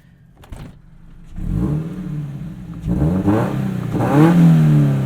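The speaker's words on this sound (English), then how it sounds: "Little taste of the exhaust." A 2019 Mazda MX-5 Miata RF Club sports car revs up in a couple of strong bursts, the exhaust rumbling louder and deeper with each rise, close by and without any talking.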